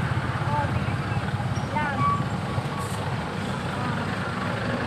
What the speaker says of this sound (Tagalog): Ang sobrang traffic.